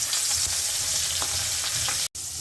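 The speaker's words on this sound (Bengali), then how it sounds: "তেলটা গরম হয়ে গেছে গা মাছটা ভেজে নেই" A fish head fries in hot oil in a wok, giving a steady, close sizzle with faint stirring ticks throughout and one brief dropout near the end.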